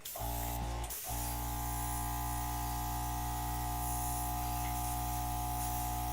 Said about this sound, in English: I'll use the airbrush this time.